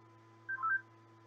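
A cell phone is dialed in a prison escape video game, producing a short, quiet burst of a few electronic keypad tones close together over a low steady hum, with nothing else around it.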